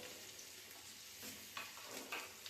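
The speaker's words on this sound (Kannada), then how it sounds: "ನೀಟಾಗಿ ಫ್ರೈ ಮಾಡ್ಕೊಳ್ಳಿ, ಜೋರು ಉರಿಲಿಕ್ಕೆ" Onions fry in plenty of oil over a high flame, making a continuous hissing sizzle with occasional spatters and light stirring, fairly quiet and steady.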